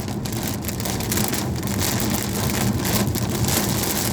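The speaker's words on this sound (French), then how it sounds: "Mais la pluie, ça m'arrange pas." Heavy rain falls during a storm in Normandy, a loud and dense steady patter that continues without a break.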